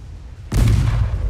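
A single heavy naval gun blast in the video game Ultimate Admiral: Dreadnoughts, a sudden loud boom after a quiet moment that rumbles on and fades slowly.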